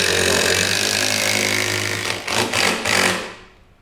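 A cordless battery drill drives a screw with a continuous whirring motor drone, then stutters in a few bursts before spinning down and stopping, close and loud.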